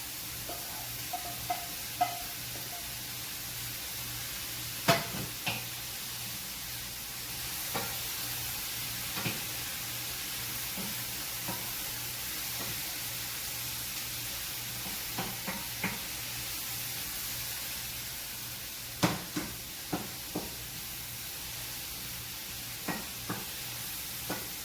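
Sliced vegetables and mushrooms sautéing in a hot pan for a creamy Cajun chicken pasta, a steady close sizzle with occasional sharp clicks and knocks of a utensil stirring against the pan.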